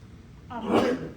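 A single short, breathy sneeze bursts out nearby against a quiet background.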